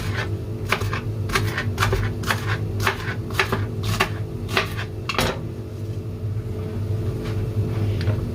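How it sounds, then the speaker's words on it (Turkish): A steady low mechanical hum with irregular clinks and knocks, as of a tumble dryer turning with hard items inside; nobody speaks. "Bu arada arkadan kurutma makinesinin sesi geliyor."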